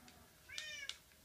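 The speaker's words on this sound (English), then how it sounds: "today, I've also tamed some ocelots that turned into cats" A tamed Minecraft cat lets out one short, clear meow, faint against a quiet game background, with no talking.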